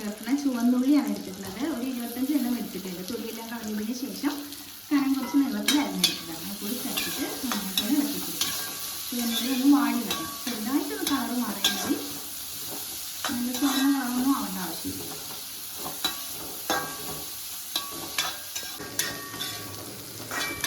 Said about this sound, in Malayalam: ഉള്ളി ഇതാ പാകത്തിന് വാടി വന്നിട്ടുണ്ട് ഇനി കുറച്ച് കറിവേപ്പില ചേർത്ത് ഒന്നും കൂടി ഒന്ന് ഇളക്കിയതിന് ശേഷം